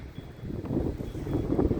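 Low, steady rumble of winter mountain wind buffeting the microphone, gusting slightly stronger toward the end.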